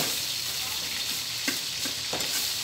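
Sinangag, garlic fried rice, being stir-fried in a pan for a home meal: a steady loud sizzle with a few scraping stirs of the spatula, heard on its own.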